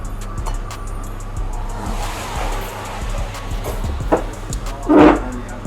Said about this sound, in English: I apologise in advance for any road noises you can hear.